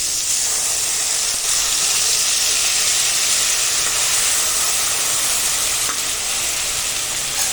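Tomato and dal hit a hot tempering of browned fenugreek seeds in a pan, setting off a loud, continuous sizzle with a bright steamy hiss that holds steady throughout.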